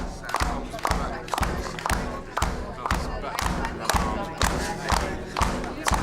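A drum beaten in a quick, steady pulse, loud low thumps repeating at an even pace, with a voice reading fast over the beat and some background chatter from a group.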